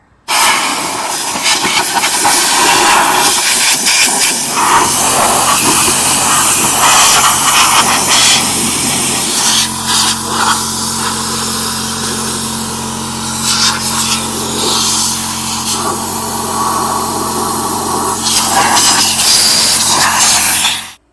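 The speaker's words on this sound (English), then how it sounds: "I have a air compressor." An air compressor blows air while a Pontiac Grand Prix's floorboard leak is repaired, giving a loud, continuous close hiss that holds steady for about twenty seconds with slight shifts in tone.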